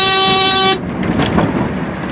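A velomobile's horn blasts loud and steady for under a second at close range, then cuts off, leaving quieter road and traffic noise.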